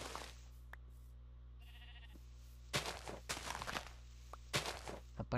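Sheep in Minecraft bleating a few times in short bursts near the end, after quiet stretches with footsteps and a soft thunk over a steady low hum, no talk.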